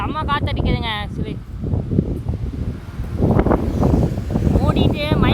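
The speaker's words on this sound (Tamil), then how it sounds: "செம்ம காற்றடிக்குதுங்க." Strong wind roars and buffets the microphone continuously on a fishing trip, with a voice talking in Tamil over the rushing noise.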